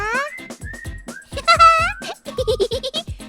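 A goat bleats in a short series of wavering calls, close and clear, mixed with a whistle-like tone while a person talks over parts of it.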